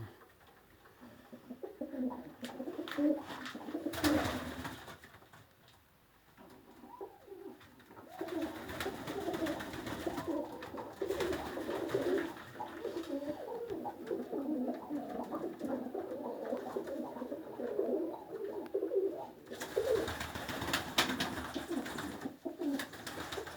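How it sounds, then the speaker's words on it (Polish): Budapest pigeons coo in repeated soft, throaty phrases that come and go, close by in an indoor loft, with small rustles between calls. "Siedzą to Budapeszty. Tu jeszcze są."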